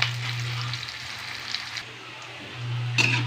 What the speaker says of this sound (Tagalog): Hanggang sa mag-brown na yung ating garlic at saka yung sibuyas.